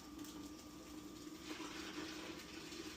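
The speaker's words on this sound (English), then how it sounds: "I can position the spout of my tea kettle right on the rim" Hot water pours from a tea kettle spout resting on the rim of a pitcher, a steady, fairly soft gushing stream with no breaks and no talking.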